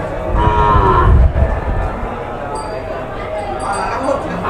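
Dairy buffalo at a weekly cattle market in Krosuru lowing amid a busy outdoor crowd, a loud low call early on over constant background chatter and market noise.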